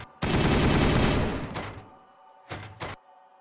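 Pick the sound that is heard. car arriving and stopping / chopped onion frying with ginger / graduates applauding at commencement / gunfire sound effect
gunfire sound effect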